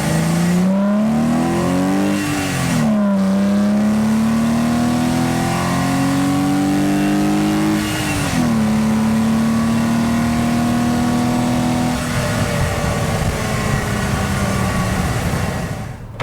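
A BMW E46 330i with SMG gearbox accelerates hard on the road, engine revving loudly and rising in pitch through several gear shifts with brief dips between, heard from inside the car with no talk.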